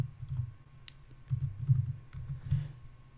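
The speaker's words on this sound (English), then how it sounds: "So let's type in the server address." Keystrokes tapped on a computer keyboard while entering a server address during setup of a Polycom VVX 400 phone, soft irregular clicks in small bursts, close and quiet with no voices.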